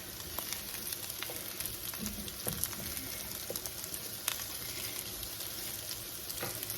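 Food frying in a pan with onions caramelizing, a low, steady sizzle with faint crackles and pops scattered throughout, quiet and continuous with no voices.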